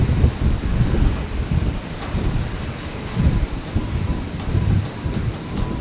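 A Qantas airliner arrives on runway 01 left at Brisbane in stormy, windy night conditions, its engine roar a steady broad rumble mixed with wind noise.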